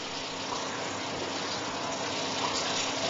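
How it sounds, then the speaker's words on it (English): Running water rinsing a silver-plated foil during electroplating work, a steady, even gushing stream like tap water with no pauses, moderately quiet throughout. "The residues on the back are removed with a sponge before the foil is rinsed again."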